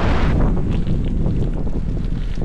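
Strong wind buffets the microphone outdoors in Malico with a constant, heavy roar and rumble, steady throughout with slight surges, drowning out everything else and carrying no speech.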